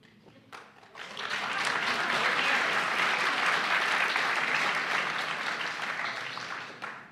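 An audience breaks into loud, sustained applause that swells within a second and holds steady before tapering slightly near the end.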